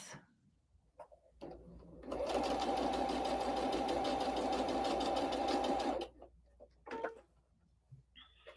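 A domestic sewing machine stitching a quilted table runner runs fast and steady for about four seconds, a dense mechanical whir with rapid ticking, framed by quiet handling clicks before and after.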